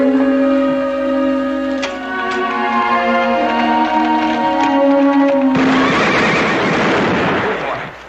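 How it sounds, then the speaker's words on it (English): A horse whinnies in a long, shrill neigh near by, followed by a rougher rush of noise that may be hooves clattering, with a voice speaking at some point. "You trying to scare this horse half to death?"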